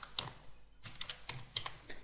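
Keystrokes on a computer keyboard as a web address is entered into a browser's address bar: quick irregular clicks in short bursts with a brief pause midway, close and fairly quiet, with no talking.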